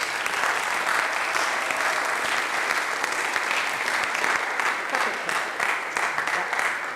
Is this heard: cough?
no